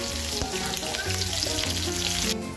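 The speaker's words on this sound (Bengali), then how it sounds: "আলু আর পেঁয়াজটাকে ভেজে নিচ্ছি।" Potatoes and onions coated in turmeric and salt fry in a little mustard oil in a kadai, a dense, close sizzle over a few steady tonal background sounds.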